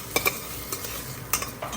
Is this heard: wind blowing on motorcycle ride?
no